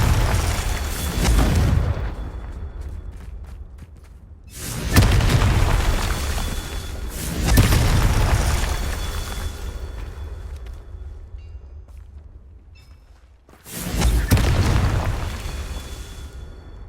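Confringo fire-spell blasts in the Hogwarts Legacy video game land as four loud, deep booming explosions, each with a sharp onset and a long rumbling decay, with no voices between them.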